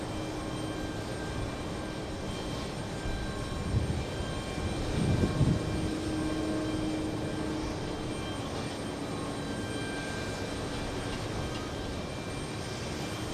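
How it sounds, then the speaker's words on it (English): A jet aircraft engine starting up at JFK airport, heard as a steady whining roar that swells slightly midway, with a constant broadband hum behind it and no voices. "Engine startup, I'm hearing it."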